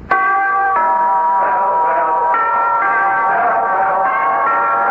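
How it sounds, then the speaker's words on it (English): A bell rings in a 1950 Pall Mall cigarette radio advertisement, with several clear, loud strikes whose ringing tones sustain and overlap throughout. "Ring the bell for Pall Mall."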